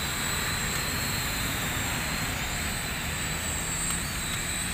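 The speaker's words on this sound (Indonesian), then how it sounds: "Jadi kalau saya ke kanan, drone-nya ikut ke kanan, teman-teman." A JJRC H106 toy drone flying under remote control gives a steady, continuous buzzing whir with a thin high whine, unbroken and fairly close throughout.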